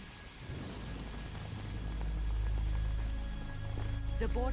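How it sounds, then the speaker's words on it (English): Rain and rolling thunder in the video game Metal Gear Solid Delta, a steady rainfall wash with deep low rumbles building throughout, fairly quiet and heard without talking. "Yay, it's raining."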